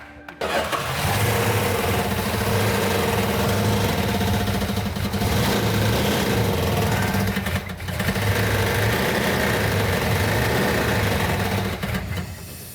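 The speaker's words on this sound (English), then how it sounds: "The engine is making a metallic knocking sound." A Plymouth Cuda engine with a metallic knock starts and runs steadily and loudly at close range, with a rough, pulsing rattle throughout and a brief dip midway.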